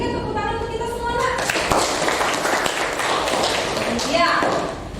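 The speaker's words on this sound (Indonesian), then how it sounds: "Berikan tepuk tangan untuk kita semuanya" Classroom applause from a teacher's students, a short burst of clapping that sets in after a teacher's voice and continues as a dense patter under ongoing talk.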